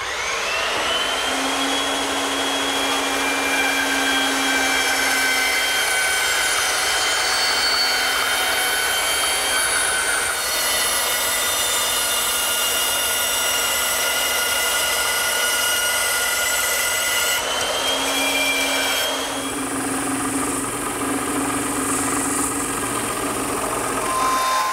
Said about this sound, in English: a 3/4 inch round over bit set up in my router makes this step a lot easier